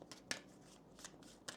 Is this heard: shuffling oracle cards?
yes